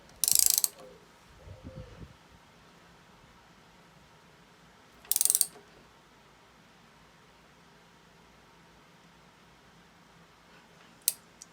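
Raising the knee on a Myford ML10 milling machine: a couple of short, loud mechanical ratcheting bursts with gaps of quiet between them and a faint tick at the end, no talking.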